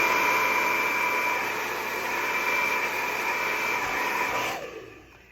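A handheld hair dryer blows on medium heat for a steady, loud whooshing hum during round-brush styling, then shuts off and winds down at the end.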